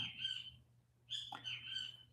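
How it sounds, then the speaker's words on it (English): Birds chirp outdoors, faintly and at a distance, in two short bursts of bright twittering calls over a steady low hum, with no voices. "Damn birds. Every time I go live, those fuckers come up."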